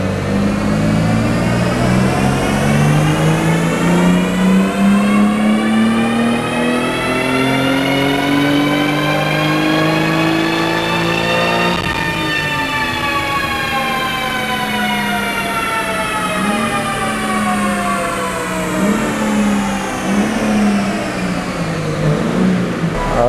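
A BMW G80 M3 pulls hard in 5th gear, its engine note rising steadily in one long, loud acceleration run with a brief dip midway, heard alone without talk.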